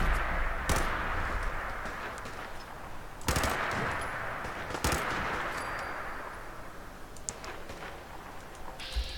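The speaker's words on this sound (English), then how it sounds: "Oh, you're shooting at raiders." Gunfire in the Fallout 4 video game during a fight with raiders: a few sharp, loud shots spaced seconds apart over a constant low background rumble, with no speech.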